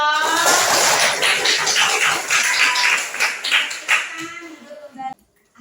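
Classroom applause from a group of students, a dense burst of clapping lasting several seconds that tapers off near the end, with voices mixed in.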